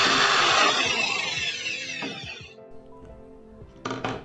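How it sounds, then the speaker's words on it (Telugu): An electric drill machine boring through a PVC pipe, a loud whining run that slowly winds down, followed by a few clicks and a short final burst of the motor. "ఇది PVC పైప్ని కూడా చాలా ఈజీగా అంటే డ్రిల్ చేసేసింది"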